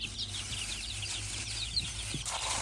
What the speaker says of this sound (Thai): นี่ก็เป็นลูกไก่ที่อนุบาลไว้เนาะโอ้เยอะมากเลย